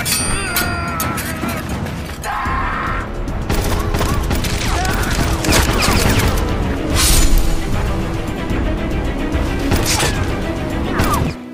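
Gunfire breaks out in a film fight scene: bursts of shots, booms and crashes over a loud dense action soundtrack, with sharp impacts scattered throughout.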